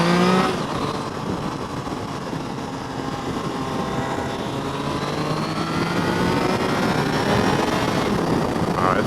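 Triumph Tiger Sport 660 motorcycle engine climbs through the revs under acceleration, its whine rising steadily and loud and close, with a brief shift near the end before pulling again.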